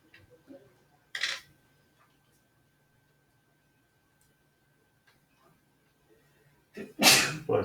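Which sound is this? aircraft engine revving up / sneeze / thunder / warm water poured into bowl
sneeze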